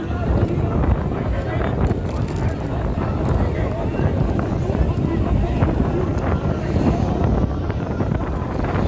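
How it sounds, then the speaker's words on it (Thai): Strong wind buffets the microphone at a longboat race on the river in Don Tan, Mukdahan, Thailand, a loud, gusty roar that continues throughout, with a voice faintly speaking beneath it. "เบิ่งเนี่ยลม"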